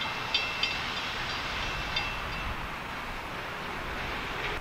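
A freight train rolls past in the rain, a steady rumbling roar of wagons with a few sharp clanks near the start, loud and continuous with no voices.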